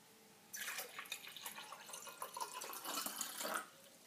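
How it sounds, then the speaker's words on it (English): Water is poured into a container for a color-changing experiment with dish soap, making a soft, continuous splashing and trickling that runs for about three seconds and then stops. "Pour that water in there."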